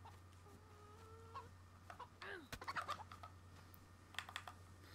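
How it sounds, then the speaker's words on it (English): Chicken in the DayZ survival game world clucking in a few short, soft bursts over a low steady hum, mixed with faint clicking. "there's a chicken right here"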